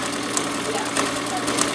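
A sewing machine stitches straight through fabric with a fast, steady mechanical whir and dense, rapid needle clatter, close and continuous for a brief moment.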